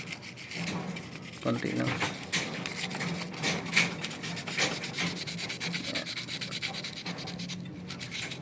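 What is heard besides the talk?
filing a copper pipe on a Daikin evaporator coil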